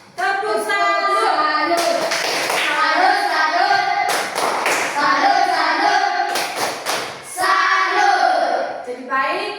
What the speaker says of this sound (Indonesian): tepuk salut dulu untuk kamu semua